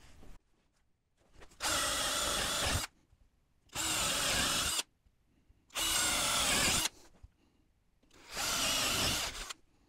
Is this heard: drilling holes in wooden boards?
yes